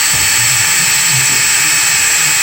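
A power drill whines steadily and loudly as it bores through an EGR bolt on a 6.7 engine, heard as a short, unbroken burst.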